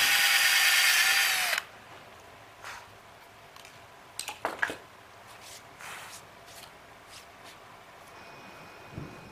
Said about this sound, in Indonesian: Buatlah lubang sebesar 5 mm di area yang diberi tanda.